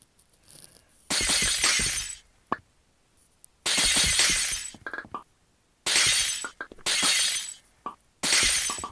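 Glass being smashed with an axe during a house repair, five loud crashing shatters each followed by tinkling shards, with quiet pauses between the blows.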